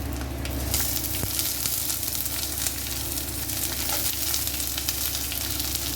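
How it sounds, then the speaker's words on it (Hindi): Onion frying with crushed garlic, ginger and chilli in a hot pan, giving a loud, continuous close-up sizzle with occasional stirring scrapes and no talk. "प्याज को लाल होने तक भूनेंगे इसमें"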